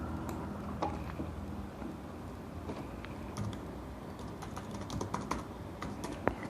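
Steady clicking of computer keyboard keys as axis names are typed into an Excel chart, close and fairly quiet, with irregular keystroke bursts and brief pauses and no voices.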